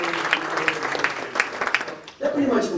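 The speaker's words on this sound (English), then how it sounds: "that deserves a round of applause" Audience applause at an author talk, a steady patter of clapping under a speaking voice that fades briefly before the talk resumes.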